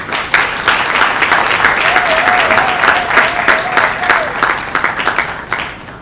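A crowd at a diploma ceremony for a youth entrepreneurship program in a Kinshasa hotel breaks into sustained, loud applause with dense clapping, and a brief tonal voice or whistle rises above it midway.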